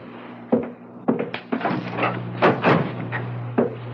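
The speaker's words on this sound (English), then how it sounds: "Close the door, won't you?" An indoor door closes in a radio mystery drama, heard as several soft wooden thumps and knocks spread over a few seconds above a steady low hum.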